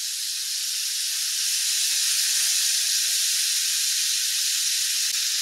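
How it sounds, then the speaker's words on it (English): Floured beef chunks browning in a hot pan for a tomato beef stew, giving a steady, loud, continuous sizzle and hiss that holds evenly throughout with no talking. "all you're doing is browning the meat"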